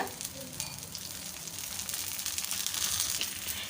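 Rice flake dosa frying in oil on a pan over low to medium flame, a steady close sizzle with fine crackling running throughout, growing slightly louder toward the end.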